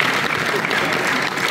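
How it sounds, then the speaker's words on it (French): Gala audience at the Prix Alpes Aventure Motofestival 2023 claps steadily, a dense, continuous wash of applause from a large crowd that stays loud and even throughout without pause. "vos applaudissements"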